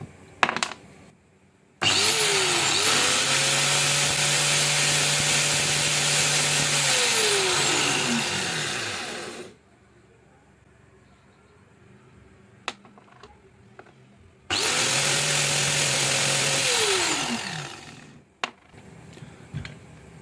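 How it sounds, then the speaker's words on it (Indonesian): An electric grinder flattening the end of a bearing whirs up twice, each run a high-pitched whine lasting several seconds before spinning down, with quiet gaps between. "Kita ratakan ujung bearingnya seperti ini ya, memakai amplas atau mata gerinda."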